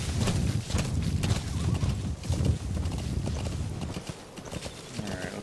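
Horse hooves clip-clop steadily in Metal Gear Solid V: The Phantom Pain, a continuous close trotting rhythm with a brief whinny, no talking over it.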